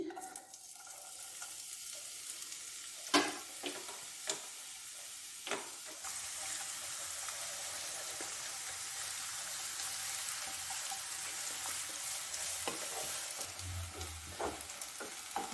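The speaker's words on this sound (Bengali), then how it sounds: "তেল গরম হয়ে গেছে বন্ধুরা পেঁয়াজটা দিচ্ছি" Chopped onions drop into hot oil for chicken keema paratha filling and fry with a loud, steady sizzle that swells after a few seconds, broken by intermittent scraping and stirring knocks.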